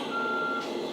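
A steady high-pitched electronic beep tone from a custom-built 10x10 toy tractor's reversing alarm sounds continuously over a low motor hum, close and fairly quiet.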